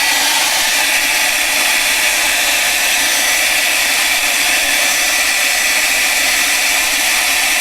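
A hair dryer blows on a freshly painted watercolor, a steady, loud, close whooshing roar that holds evenly for the whole stretch with no voices.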